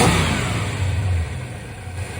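A 1965 Chrysler 300L engine idles after an ignition timing adjustment, a steady low rumble with a slight lope, running close and alone with no talk.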